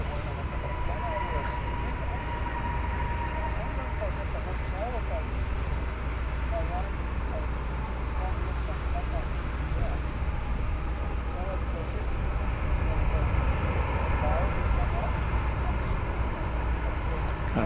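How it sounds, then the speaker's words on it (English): A Cessna light aircraft climbs away at an airport, a steady distant engine drone held throughout under a broad wash of ambient noise. "A Cessna going up and away"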